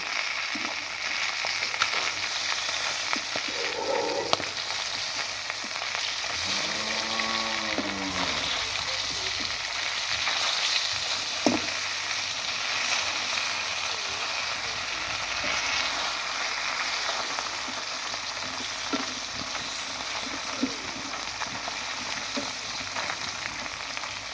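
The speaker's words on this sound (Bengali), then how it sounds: "প্রথমে মাছগুলোকে ভালোভাবে ভেজে নিচ্ছি" Pieces of rui fish fry in a pan, giving a soft, continuous sizzle at moderate distance. Light scrapes come through, and a brief voice is heard partway through.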